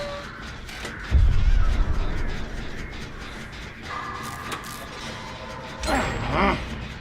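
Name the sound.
crows cawing in video game Dead by Daylight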